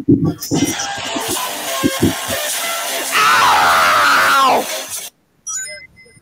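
Loud, close shouting and yelling, then a sustained piercing scream for about a second and a half, cut off abruptly and followed by a brief silence.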